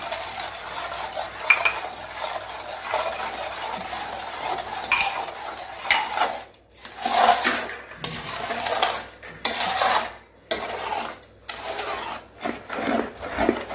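Chopped dry fruits tipped into a pan of Gujarati adadiya pak made with jaggery and edible gum, with clattering spoon and pan scrapes and stirring, close and fairly loud, in irregular bursts.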